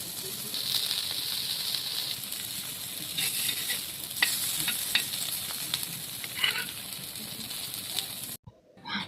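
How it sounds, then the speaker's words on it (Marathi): Mackerel (bangda) fish frying in a pan, Konkan style, gives a steady close crackling sizzle with scattered louder pops for about eight seconds before cutting off abruptly. "तर बघा इथे मी आज बांगडे फ्राय कसे करायचे हे तुम्हाला दाखवणार आहे"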